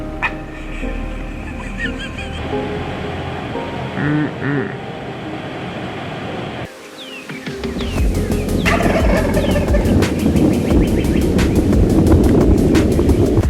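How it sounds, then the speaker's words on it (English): A big Rio Grande wild turkey gobbles repeatedly outdoors in Kansas, loud rolling calls that stand out against wind and a rumbling background, with a little quiet talk. "That's that big Rio gobbler."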